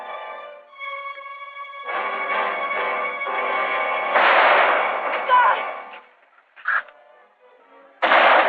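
Gunfire crackles during a western movie shootout, sharp bangs and clangs ringing out over a tense musical score, with a couple of distinct shots standing out near the end.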